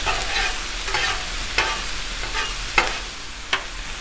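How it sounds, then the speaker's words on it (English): Vegetables and smoked sausage with fried potatoes are stirred on a Blackstone griddle, a steady sizzle broken by several sharp spatula scrapes and clacks at irregular intervals, close and fairly loud with no talking. "let's go ahead and mix the veggies in with the sausage now"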